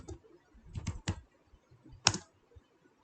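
Someone types code on a computer keyboard, a handful of soft keystrokes in short bursts with one sharper, louder key press, close by in a quiet room.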